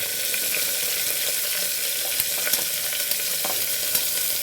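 Steady hissing sizzle of onions frying in a hot pan, with occasional stirring clicks and pops, close and continuous.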